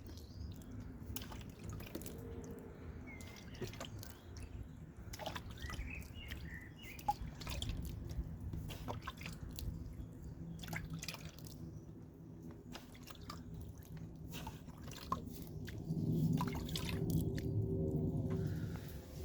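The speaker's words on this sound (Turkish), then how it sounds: "Hafif hafif suluyoruz." Water dripping and trickling gently onto peat-covered seeds as they are watered, soft scattered drips and light splashes close by, with no talk.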